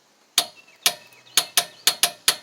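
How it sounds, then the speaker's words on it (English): A torque wrench set to 80 foot-pounds clicks sharply eight times in uneven pairs and singles, each crisp metallic snap close and loud against an otherwise quiet background. "we're going to hook on the torque wrench with the extension, and here's what we're going to do. We're going to torque it"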